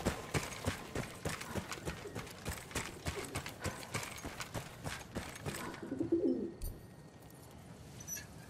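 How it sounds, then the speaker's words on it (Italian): Homing pigeons coo in Battlefield 1 gameplay, a soft burst near the end following a long stretch of steady rhythmic clopping and clattering that dominates most of the scene. "andiamo là dove ci sono i piccioni viaggiatori"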